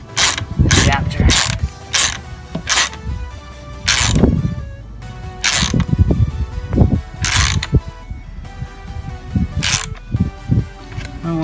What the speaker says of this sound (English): we're going to use a 14mm socket and just snug down this